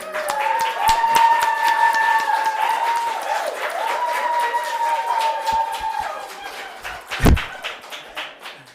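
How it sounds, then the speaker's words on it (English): A crowd applauding at a Sunday church service, rapid sustained clapping from many hands with a sung or hummed melody over it, fading near the end after one sharp loud knock. "Please give another round of applause."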